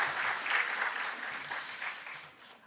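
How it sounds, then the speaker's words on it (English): Audience applause at a nursing doctoral hooding ceremony, a soft, distant patter of many hands clapping that fades slightly toward the end. "So a big round of applause for all of our clinical partners"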